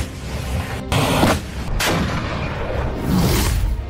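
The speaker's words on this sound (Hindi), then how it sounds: "एक टैंक, एक फायर," A tank fires as an artillery blast in a war setting, giving several heavy booming reports, each with a broad, loud burst that decays over a fraction of a second.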